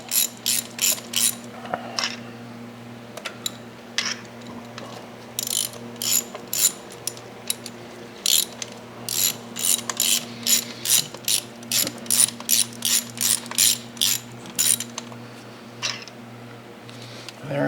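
A hand ratchet clicks in rapid bursts of sharp pawl ticks while spark plugs are removed from an Audi A4 engine, close up, with short pauses between strokes and a steady hum behind.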